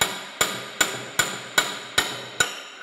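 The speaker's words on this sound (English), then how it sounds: "So now I got a brass punch and a regular hammer." A regular hammer strikes a brass punch to drive a part out of a FAMCO 5C arbor press under restoration, seven sharp metallic blows at an even, steady pace, close and clear with no talking.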